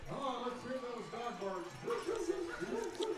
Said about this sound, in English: Really trying to get the dogs a-barking.